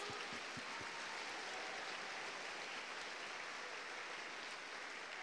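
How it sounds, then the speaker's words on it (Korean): A congregation claps together during a revival conference church service, a faint, even patter of applause that is heard from a distance and holds steady throughout. "Vamos dar um salve de palmas."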